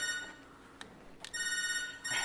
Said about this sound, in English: there's your phone ringing